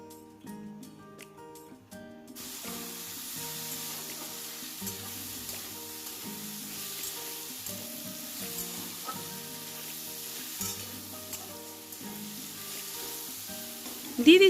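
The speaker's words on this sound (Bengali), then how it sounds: "টমেটো দিয়েও খুব ভালোভাবে আবারও আলুর সাথে একটু 2 মিনিট ভেজে নিচ্ছি।" Potatoes and chopped tomato fry and sizzle steadily in a pan, stirred now and then, with a continuous close sizzle and occasional utensil scrapes; a brief tonal music passage opens before the frying sound takes over.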